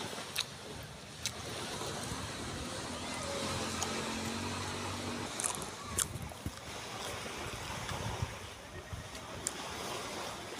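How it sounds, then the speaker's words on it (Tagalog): Constant wash of waves rolling onto a shore, with occasional sharper splashes and knocks over a steady background rush. "Dito kami sa tabing dagat mga idol."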